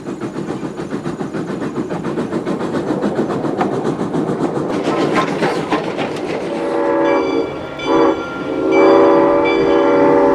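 A train made up of locomotive number 5 and former Illinois Central Electric commuter cars rumbles past with rhythmic clickety-clack from the wheels, then its horn blares loudly in long sustained blasts near the end.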